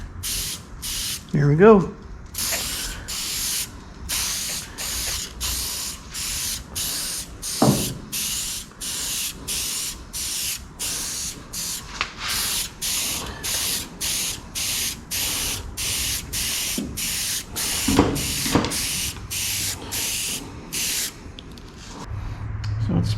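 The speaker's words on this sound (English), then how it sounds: "So it's spraying out a little funny." A spray gun spraying paint unevenly on a 1963 Bel Air hisses in a long run of short, evenly spaced bursts, close by, with a brief spoken phrase near the start.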